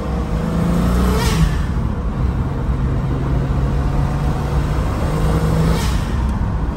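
A Ford Capri 3.1 turbo, suspected of a fuel-pressure fault that makes it die off at a certain RPM, drones loud and close with a steady revving engine roar and no talking.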